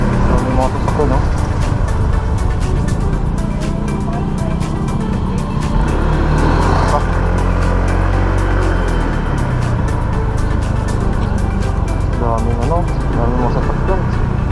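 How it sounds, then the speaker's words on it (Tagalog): Many vehicles crowded at Roxas Port, a ferry port: steady loud engine rumble and passing traffic fill the scene continuously, with a voice talking over it. "Daming mga sasakyan."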